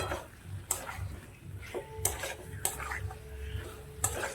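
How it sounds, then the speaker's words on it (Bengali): Potatoes are stirred into cooked spice masala in a pan: soft scraping and shuffling under a few sharp clinks of the spoon against the metal pan, close and fairly quiet. "আলুর সাথে ভালো করে মশলাটা মিশিয়ে"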